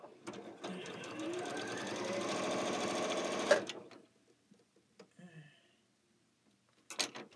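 A home sewing machine stitches through quilting fabric for a sampler block, running in a steady rapid whir for about three seconds before stopping, followed by quieter handling noises and a few faint clicks.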